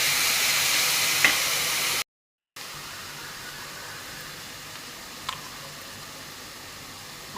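Onions fry in oil with a steady, even sizzle, broken by a brief silent gap and a couple of faint clinks.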